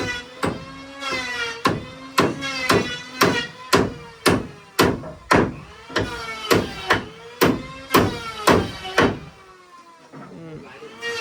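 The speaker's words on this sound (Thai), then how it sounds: "ตอกแล้วตอกอีก" Nails being hammered during house construction: loud, evenly spaced ringing blows, about sixteen in quick succession, close by, stopping near the end with a few softer knocks.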